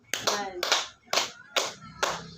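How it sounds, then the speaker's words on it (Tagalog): Five sharp, synchronized claps from a classroom group, evenly spaced and close, with a faint voice mixed into the first claps. "Bigyan natin ng 5 palakpak si Desiree."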